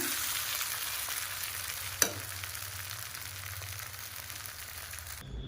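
Chow mein is stir-fried and tossed in a pan, giving a continuous loud sizzle with a single sharp knock partway through, then it stops suddenly at the end.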